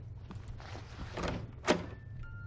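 A door opens in the horror video game Outlast 2 with a single dull thunk and scrape, heard close and alone.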